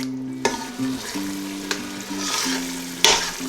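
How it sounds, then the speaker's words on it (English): Yogurt paste for kofta curry frying in a pan: a steady, close sizzle with occasional stirring scrapes and clicks over a low background hum, with no talking. "we'll continue frying it until this yogurt is fried well as well, and it forms a nice thick paste for the koftas or meatballs to go"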